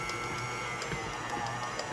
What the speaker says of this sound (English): if you can see the mixer wobble just a little bit